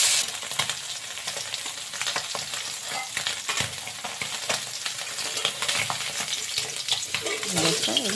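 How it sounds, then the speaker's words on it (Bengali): Potatoes fry in oil for a Bengali tangra fish curry with cauliflower, making a loud, continuous crackling sizzle with occasional stirring scrapes throughout. "আলুর সবকটা ওই একইভাবে ভেজে তুলে নিলাম"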